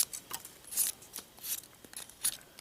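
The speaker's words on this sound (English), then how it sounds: "with the ceramic, it's hard to not just cut through the damn branch" A ceramic knife blade slices through a branch in a handful of quick, crisp snipping cuts spaced across a couple of seconds, fairly faint and close, with no voices.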